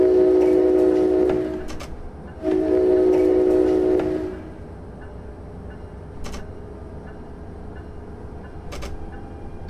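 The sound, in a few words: ALP-45D locomotive departing station in Train Simulator 2017 video game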